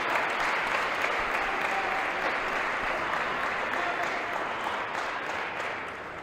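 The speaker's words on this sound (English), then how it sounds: "listen to this crowd getting behind him" A packed arena crowd at a table tennis junior world championship final claps and cheers steadily in a dense, sustained wash of applause that eases slightly at the end.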